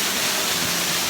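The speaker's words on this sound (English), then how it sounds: "Achinosa waterfall." Waterfall at Achinosa near Akropong Akuapem, a steady broadband roar of falling water filling the brief moment, loud and close with no voices.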